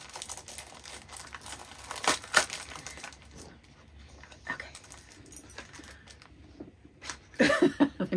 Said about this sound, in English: I'm gonna have to rip the box.